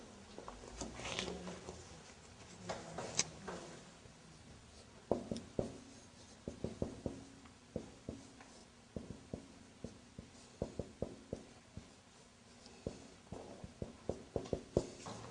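Pen or marker scratching out handwritten characters in quick irregular strokes and taps, close and fairly quiet, with a little room noise and no talking.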